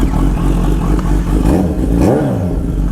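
A Kawasaki Z H2 motorcycle engine revs loudly up close, the throttle blipping and climbing in pitch before dropping back, with some mechanical clatter underneath.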